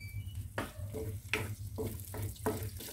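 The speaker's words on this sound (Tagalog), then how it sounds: "Lagyan natin ngayon ng mantika. Magigisa na tayo, mga friendship. Umpisa ng paggigisa." Sautéing in hot chicken oil gives a close, crackling sizzle broken by rhythmic scraping strokes about every half second, with no talk.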